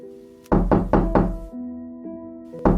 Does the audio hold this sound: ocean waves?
no